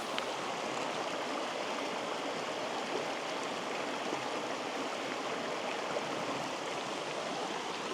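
Citico Creek rushing past a camp spot, a dense, even roar of flowing water that stays loud and constant throughout with no voices.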